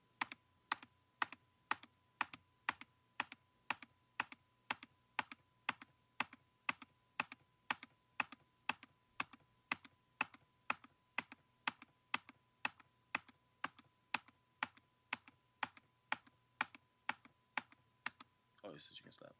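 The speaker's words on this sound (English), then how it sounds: "you can hit any key on the keyboard too and do it." Keys on a computer keyboard tapped in a steady, evenly spaced rhythm, roughly two strokes per second, crisp and close, with no talking over them until a brief burst of other sound at the very end.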